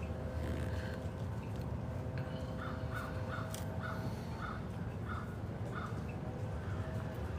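A crow caws outdoors in a steady series of about eight short, moderately distant calls over a constant low background hum.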